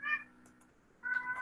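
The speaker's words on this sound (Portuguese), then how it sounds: "atender um gato" A house cat trying to get into a bedroom gives two short, faint meows, separated by a brief quiet pause.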